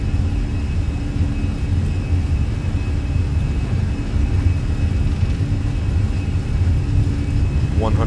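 Fenix A320 jet engines roar at takeoff power in Microsoft Flight Simulator, a loud, steady rumble with a thin high whine held throughout and a brief rising tone at the very end.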